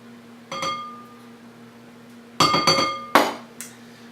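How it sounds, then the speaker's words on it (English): Pumpkin puree goes into a glass bowl of beaten eggs for pancakes, heard as a few bright clinks of a utensil on glass, one early and a quick cluster later, close in a quiet kitchen. "We're going to take the half a cup of pumpkin puree, add that in."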